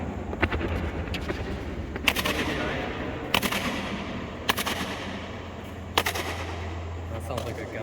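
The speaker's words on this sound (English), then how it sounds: "That sounds like a gun." Gunfire near old military bunkers at Chattanooga Enterprise Park, sharp loud reports in irregular bursts roughly every second or so over a steady low rumble, echoing outdoors without talk.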